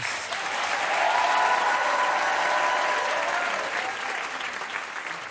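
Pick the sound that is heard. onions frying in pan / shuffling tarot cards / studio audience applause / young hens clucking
studio audience applause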